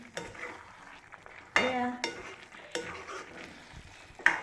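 Fried ingredients tipped into a handleless kadai and stirred, with scraping strokes and metal clinks over a soft sizzle, in bursts separated by quieter gaps.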